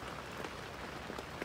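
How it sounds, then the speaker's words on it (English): A steady downpour of heavy rain drums on a tarp rain fly above a winter camp shelter, an even, close, unbroken wash of patter. "It's raining pretty hard now."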